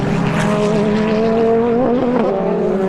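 GT race cars compete at a circuit in Dubai, their engines roaring continuously and loudly with a sustained, shifting drone as they pass nearby.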